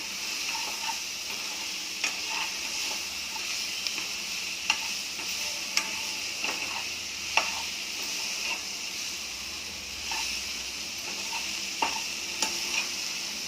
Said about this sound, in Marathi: बटाट्याला आणि फ्लावरला पूर्ण मसाला लागला पाहिजे एवढ्यापर्यंत परतून घ्यायचं